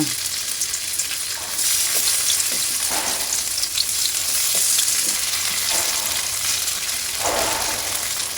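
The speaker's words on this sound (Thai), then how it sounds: "นำเต้าหู้มาเจียวนะคะ ไฟเอ่อน้ำมันไม่ต้องเยอะค่ะ" Tofu frying in a small amount of oil in a pan, giving a steady, close sizzle and crackle throughout, with occasional soft stirring scrapes and no talking.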